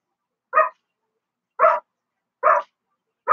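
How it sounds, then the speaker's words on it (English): A dog barks in four sharp, evenly spaced woofs, close and loud, with silence between each bark while heavy rain pours outside. "My freaking dog is barking up a storm."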